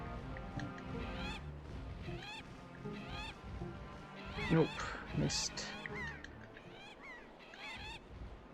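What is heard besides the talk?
birds calling in Zelda: The Wind Waker video game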